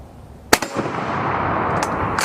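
An M44 rifle fires at old shoes outdoors: one sharp, loud crack with a short echo tail, followed by a fainter second report more than a second later.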